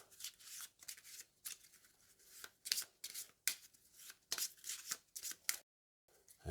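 Board game cards for a wargame get shuffled, a string of crisp riffling bursts in quick succession, close and fairly quiet, with a short silent gap near the end.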